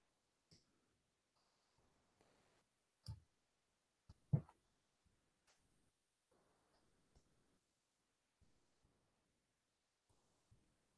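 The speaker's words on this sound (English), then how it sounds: "oops, we are typing in English." Typing on a computer keyboard: sparse, soft key clicks scattered over a quiet background, with a couple of slightly sharper taps and long pauses between them.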